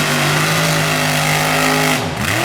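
A mud racing truck engine revs hard with a steady, loud drone that holds near and close, then dips and climbs again near the end, with no talking over it.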